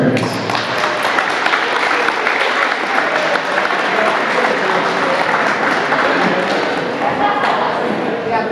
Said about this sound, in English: Let's have a round of applause for our parents.